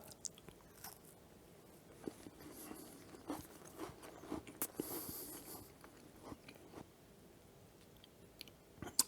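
Close, crisp crunching bites and chewing of a homemade peanut butter shortbread candy bar repeat irregularly, with sharper cracks now and then and no talking.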